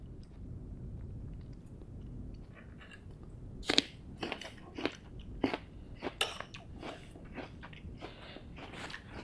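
Someone eating Pip Nut peanut butter, with a run of close, sharp crunchy bites and chewing clicks over a low steady hum, no talking.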